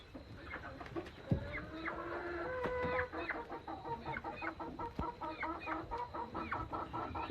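Free-ranging backyard chickens cluck and chatter in the rain, a busy close flock of repeated short clucks and calls with a louder squawk early on, no speech over them.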